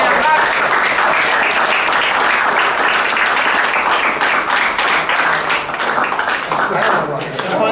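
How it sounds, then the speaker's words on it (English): An audience at a gathering of American activists supporting Cuba breaks into sustained, dense applause, loud and continuous throughout, with a voice faintly audible at moments. "Once again, applause."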